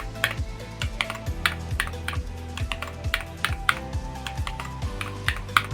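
Fn and P keys are pressed repeatedly on an Epomaker Brick87 hot-swap mechanical keyboard with Peace Lily switches, giving crisp, close clicks in an uneven rhythm over soft background music.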